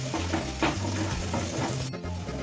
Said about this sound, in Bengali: পেঁয়াজ আর লঙ্কাটা একটু নুন দিয়ে ভেজে নেব।